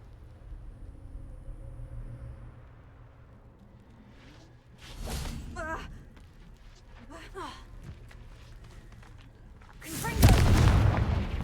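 Confringo explosive spell in the Hogwarts Legacy video game: sharp explosive bursts with whooshing blasts, one mid-clip and a louder one near the end, over low game ambience.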